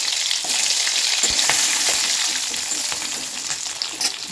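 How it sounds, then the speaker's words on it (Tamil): Garlic hits hot oil with mustard seeds already spluttered in the pan. A loud, close, continuous sizzle and crackle runs throughout with occasional stirring clicks. "இப்போ நம்மளோட கடுகு எல்லாமே நல்லா புரிஞ்சிருச்சு இப்போ வந்து நம்ம வெள்ளைப்பூடை சேர்த்துக்குவோம்"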